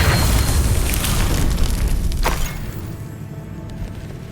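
A Confringo fire spell bursts in Hogwarts Legacy with a loud, deep boom that rumbles for about two seconds, then a brief sharp crack, and the blast fades into a quieter crackling tail.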